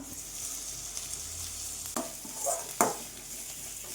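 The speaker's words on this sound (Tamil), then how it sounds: "எல்லாமே வந்து பொன்னிறமாக வதங்கிட்டு" Garlic, ginger, curry leaves and coriander fry in a pan for Bombay chutney, giving a steady soft sizzle broken by a few sharp utensil knocks near the end.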